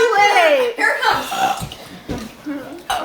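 A child lets out a loud, drawn-out burp in a burping contest, followed by short bursts of children's chatter and noise close by.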